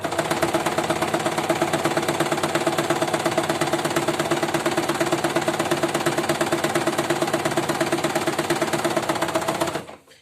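A sewing machine running a plain straight top stitch on an XL scrunchie, a loud, fast, even mechanical chatter sustained close up for about ten seconds before stopping abruptly.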